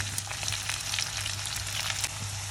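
Chopped onions added with a little salt to hot oil in a pan sizzle steadily up close, a dense even crackle with occasional stirring scrapes and no voices.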